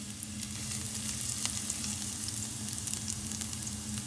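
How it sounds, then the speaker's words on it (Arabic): Two garlic cloves frying in hot olive oil, a close, steady crackling sizzle with faint scattered pops, continuous and without voices. "الحين زيت عندنا زيتون يسخن، بعد راح احط عليه حوالي فصين ثوم"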